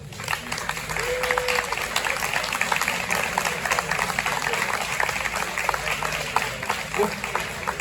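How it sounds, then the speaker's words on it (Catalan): Dense, sustained audience applause fills a hall at a Catalan gathering, many hands clapping together at an even, loud level throughout, with faint crowd murmur underneath. "Aplaudiments, sisplau."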